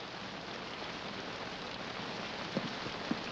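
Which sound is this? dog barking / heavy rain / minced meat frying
heavy rain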